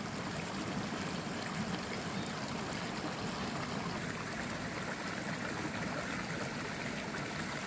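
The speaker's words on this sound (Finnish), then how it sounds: "Sieltä tulee vettä oikein kunnolla." A spring in Finnish Lapland gushes steadily, a continuous broadband rush of flowing water heard close and alone with no voices.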